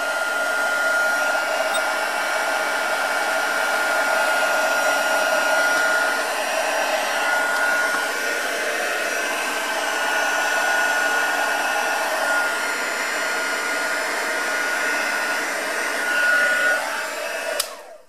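A heat tool blows air steadily to dry a handmade card base, a loud continuous close whir that stops abruptly at the end, with no talking.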